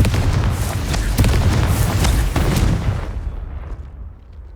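A Confringo fire spell explodes in Hogwarts Legacy, a loud booming blast with crackling bursts that rolls on for a few seconds and then fades into a quieter tail.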